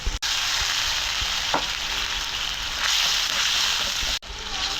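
Onion, tomato, ginger and garlic fry in a pan for a freshwater fish dish, giving a steady loud sizzle with occasional stirring scrapes throughout, with no talking.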